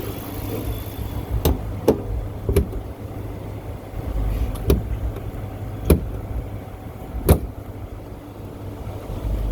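Several sharp thumps and knocks spaced a second or so apart over a low engine hum as the hood of a 2013 Chrysler 300C with a new cold air intake is pushed and pounded shut.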